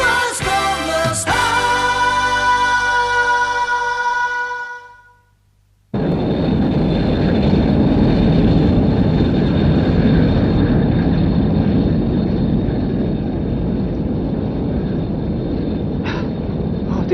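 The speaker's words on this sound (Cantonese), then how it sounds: "啲飛機聲好大喎。" A large promotional airplane flies high over the Alps, its engine roar a loud broad sustained rumble with a faint high whine, after a brief silent gap following a fading musical passage.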